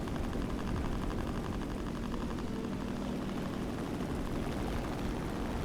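Steady, unbroken drone of an IL-2M (1943) ground-attack aircraft's propeller engine in War Thunder, a dense loud roar with a faint rhythmic pulse, constant throughout with no talk.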